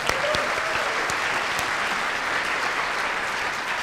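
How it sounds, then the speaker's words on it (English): Steady applause from an audience at a high school scholarship night, a dense wash of clapping that holds at an even level throughout with no voices over it. "So if we could just have a round of applause for Alex Fleming"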